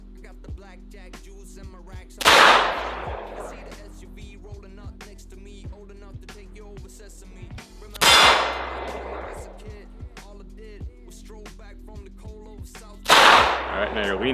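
Three sharp gunshots from a handgun fired at a shooting range, spaced about six and five seconds apart, each loud and close with a ringing tail, over a steady low hum and faint background clatter.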